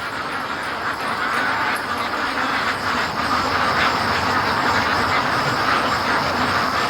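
Free-range ducks quack loudly and densely as a flock, a continuous close chorus of overlapping calls with no clear pauses and no speech.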